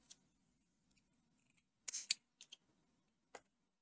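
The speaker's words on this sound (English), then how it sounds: "I'm gonna cut this yarn" Scissors snip through crochet yarn in a few quick, sharp cuts, close and distinct, with near-silence between the snips and no one talking.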